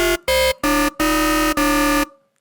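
An unfinished drum and bass womp bass patch built in Serum, with one oscillator pitched up three octaves, plays as five loud, harsh, buzzy sustained notes separated by short gaps, with no other sound around it.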